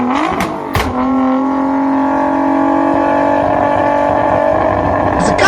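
An engine idles and revs with a steady hum, punctuated by a few sharp, loud pops near the start, like backfires.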